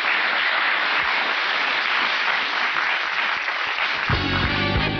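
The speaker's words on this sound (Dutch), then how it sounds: "Dames en heren, applaus voor Rob Laarhoven." A studio audience at a TV quiz show claps continuously for several seconds, a dense, even wash of applause, with a low musical sting entering near the end.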